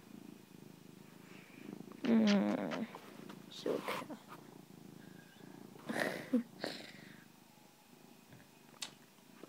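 A pet cat purring up close, a faint steady rumbling with a few brief louder bursts, while a person talks quietly over it.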